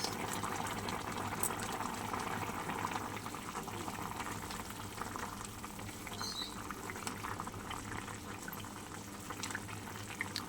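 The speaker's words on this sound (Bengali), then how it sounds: "চলো আবার একটু ফুটিয়ে নিই" A pot of rui fish curry with ridge gourd and potatoes simmers at a steady low boil, a continuous soft bubbling and gurgling that runs uninterrupted throughout with no voices.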